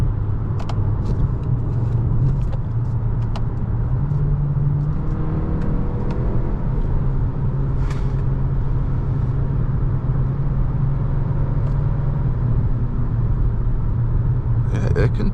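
A 2026 Kia K4 GT-Line hatchback with a 1.6 turbo engine is driven in sport mode, its steady engine rumble and road noise filling the cabin, with faint clicks and brief tonal rises.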